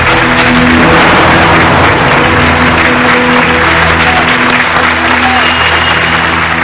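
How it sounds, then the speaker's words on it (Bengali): Audience applause at the close of a speech on a Bengali TV show, a dense, loud, steady wash of clapping that runs unbroken throughout with faint tonal background sounds underneath. "হাততালি।"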